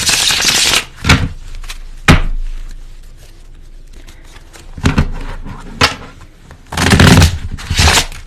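Tarot cards are shuffled close up in several short, crisp riffling bursts separated by quiet pauses, with no talking.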